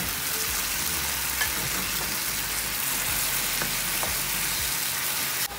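Ground meat fries in a pan over partly cooked tomato with a steady, close sizzle and crackle, plus faint scraping from stirring, with no talking.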